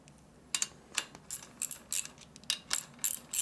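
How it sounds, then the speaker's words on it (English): Oily quarter-inch-drive ratchet wrench being turned on a 1988 Harley-Davidson FXR engine during valve work, giving a run of sharp, close clicking bursts in an irregular rhythm with no talking. "I'm trying to turn the damn wrench and it's full of oil"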